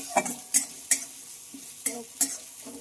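Chopped onions and green chili fry in a pan, giving a close sizzle broken by about six sharp spatula scrapes and clinks against the pan in an uneven stirring rhythm, with no voices.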